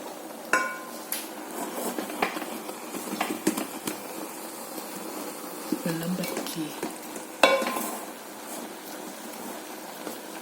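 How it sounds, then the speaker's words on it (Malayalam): Jackfruit mixture being stirred in a pan at home, with scattered scrapes and knocks of a utensil against the pan over a soft sizzle, moderately close, no talking. "ഇളക്കിയെടുക്കാം"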